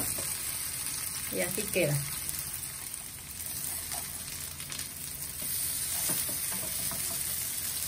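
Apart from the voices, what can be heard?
potato and chicken hash browns frying in a pan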